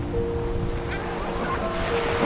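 Ocean waves wash around a sailboat under sail in the wild Gulf of Alaska, a loud steady rushing surf with wind, while faint bird-like squeals and whistling tones drift over the top.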